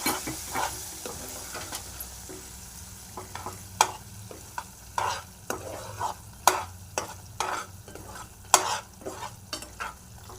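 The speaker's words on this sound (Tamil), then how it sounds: "அந்த நெய்யும் நம்ம இதில் ஊற்றிடலாம் ஊற்றி நல்லா கலந்து விட்டுறலாம்" A spoon stirring ghee into a cashew mixture in a pan, a series of distinct scraping strokes in an uneven rhythm over a soft background sizzle, close and moderately loud, with no talking.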